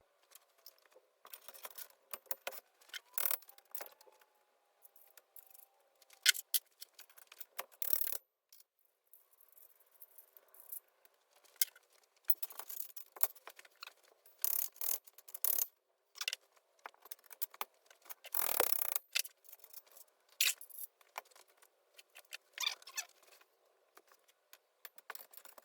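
Nuts and washers being fastened on a Kensui Torii pull-up rack, with scattered metallic clinks, ratcheting and rattling clicks in irregular bursts, close and fairly quiet, alone without speech.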